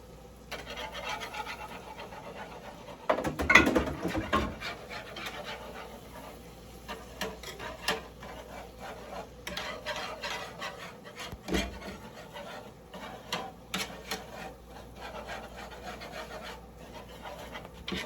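A whisk stirs flour into a sauce in a pan for seafood lasagna, a steady scraping and rubbing with a few louder strokes, close and continuous without talk.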